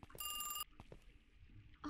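A telephone rings in the horror game The 13 Loop, one loud electronic ring burst, then quiet with scattered clicks and movement noises, and a brief start of another ring at the end.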